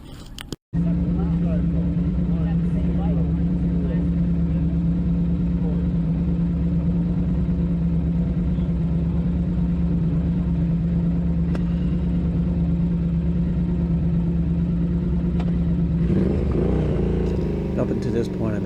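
A Triumph Thruxton R motorcycle at Bonneville Speed Week on the salt flats holds a loud, sustained engine drone near high revs, nearly 8,000 RPM, steady for about fifteen seconds before the pitch shifts near the end.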